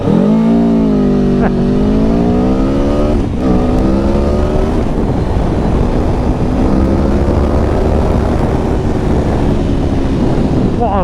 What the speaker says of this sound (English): you can hear some pops and bangs from the exhaust.